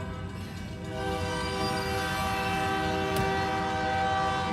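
A train horn sounds in a long, steady, fairly distant blare with layered tones and faint rail rumble underneath, continuing without a break.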